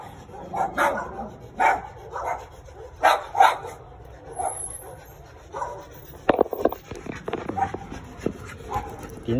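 Small chihuahuas at a neighbour's place yap and bark in short, sharp bursts, some clustered, others spaced apart, with a louder scrappy flurry near the end, heard at moderate distance.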